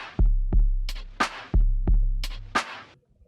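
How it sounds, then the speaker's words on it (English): Electronic drum beat playing a short looped pattern with punchy low kicks and bright snare or clap hits in a steady rhythm, loud and close with no talking. "we're going to start with using a beat that sounds like this."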